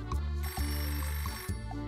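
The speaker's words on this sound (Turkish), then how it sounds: "Telefon çalıyor aç telefonu." A telephone rings in a pizza shop kitchen, its electronic bell-like ring repeating in steady bursts, loud and close with no talk over it.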